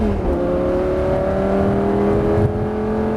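A Lamborghini engine roars at full throttle, a steady loud rising drone from inside the car with no pause.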